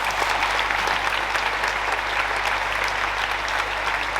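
Steady, dense applause from the audience at a Génération Écologie gathering in Lyon, honoring the local group's team, sustained and even throughout with no voices.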